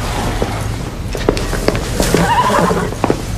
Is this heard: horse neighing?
yes